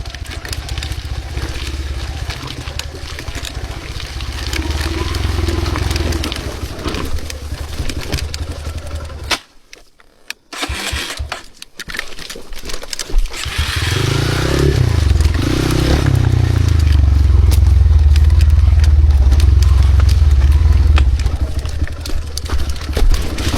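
Motorcycle engine running after heavy rain, a loud continuous rumble with clattering, briefly dropping out near the middle before returning stronger and steadier for the rest, heard close and alone.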